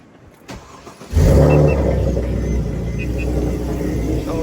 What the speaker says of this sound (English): I for sure am gonna start the car from over here